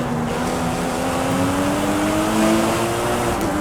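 Toyota race car in Forza Horizon 5 holding a steady, rising engine drone as it pulls away from a Mazda MX-5, loud and continuous with a gradually climbing pitch and no talk.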